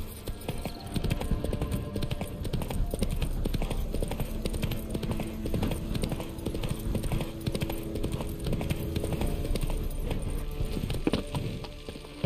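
Roach, the horse in The Witcher 3, gallops in a dense, loud drumming of hoofbeats that runs throughout over game music and ambience, easing slightly near the end.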